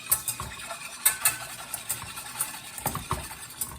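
Pickled beet liquid ingredients whisked together in a bowl, quick irregular clinks and light taps of the whisk against the container, close and fairly quiet.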